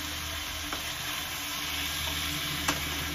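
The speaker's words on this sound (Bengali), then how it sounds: "মশলাটা দেওয়ার পর 2-3 মিনিট ভালো করে মশলাটা মিশিয়ে নিতে হবে।" Chicken pieces stirred into spice paste in a hot pan fry with a dense, constant sizzle, and two brief scraping clicks from the spoon stand out; no one speaks.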